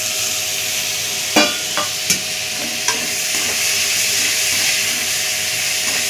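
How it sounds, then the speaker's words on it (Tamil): Onions, tomatoes, pepper, cumin, chilli powder, masala and tamarind sautéing in a pan for fish curry, a steady loud sizzle with a few sharp stirring scrapes and knocks near the start. "இதெல்லாம் சேர்த்து நம்ம வதக்கி அரைக்க போகிறோம்."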